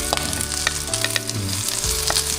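Large freshly caught shrimp sautéing in a pan with garlic, onion and a little ginger: a close, steady sizzle with a low hum underneath and a few soft clinks of a utensil against the pan.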